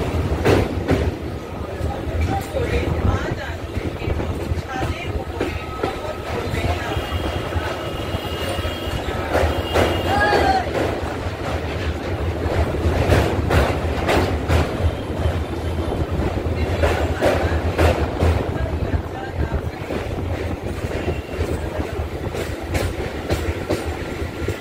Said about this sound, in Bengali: মালদা এসএমভিভি বেঙ্গালুরু অমৃত ভারত এক্সপ্রেস